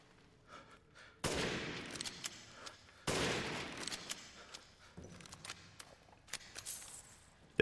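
Two loud, crisp gunshots from hip-firing a gun in Resident Evil Village, each with a ringing tail, followed by quieter clicks, shuffles and faint footsteps.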